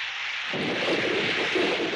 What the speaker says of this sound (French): on a même droit au tonnerre maintenant